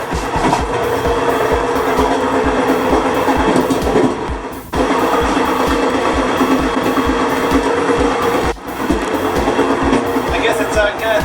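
Passenger train running on tracks in Thailand, heard from inside a carriage as a loud steady rumble with a regular clickety-clack of wheels over rail joints, with two brief dips as the train passes gaps.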